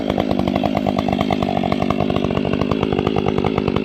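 A Stihl 500i chainsaw fitted with a modified bark box cuts a stump, its engine roaring steadily at high revs with a rapid pulsing buzz, very loud and close, no voices.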